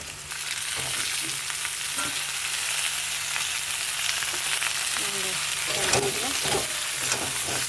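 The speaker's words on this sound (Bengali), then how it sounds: "আলু পটল সব একসঙ্গে দিয়ে দেবো, একসঙ্গে ভাজা হবে পেঁয়াজের সঙ্গে সব" Potato, pointed gourd and onion fry together in a pan over cumin and bay leaf, a loud continuous sizzle with scraping stirs and clatter toward the end.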